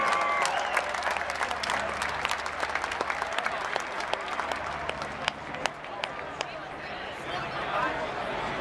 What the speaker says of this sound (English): How about a round of applause for Big Machine Records recording artist Cassidy